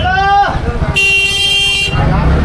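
On a narrow, crowded Vrindavan street, a car pushes through as two loud horn blasts sound close by, one short and one longer, over traffic noise and nearby voices.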